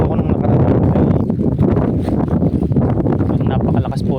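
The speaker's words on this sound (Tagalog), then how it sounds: "Napakalakas po ng hangin" Strong wind buffets the microphone outdoors during a fishing trip, a loud, continuous low roar and rustle that fills the whole stretch, with a voice talking underneath.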